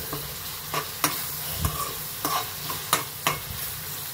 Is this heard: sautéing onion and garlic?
yes